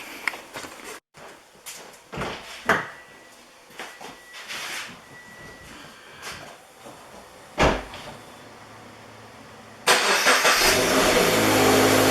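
Toyota 86 sports car on a spring maintenance day, with doors and panels thudding shut one after another before the engine cranks and catches near the end into a loud steady idle.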